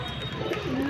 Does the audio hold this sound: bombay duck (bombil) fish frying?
no